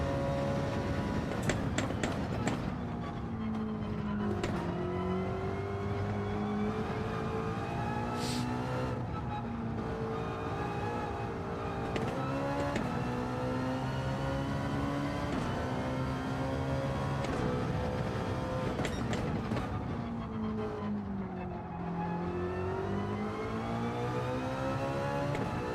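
A racing car engine roars through a time trial lap in a racing video game, rising and falling as it revs through the gears, with sharp shifts and steady loud whine throughout and no talk.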